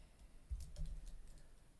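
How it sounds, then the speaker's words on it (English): Someone types on a computer keyboard, producing a short run of faint, close key taps over a quiet background, with no voices. "I'm gonna try typing in adi."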